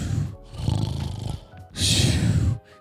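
Children in a group imitate snoring with their voices, two loud bursts of nasal, rumbling snores separated by a brief pause, close and lively.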